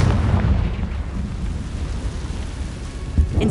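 A Confringo fire spell bursts in Hogwarts Legacy, a loud, close, rumbling explosion that fills the moment with sustained low roar and debris-like crackle, with no talk over it.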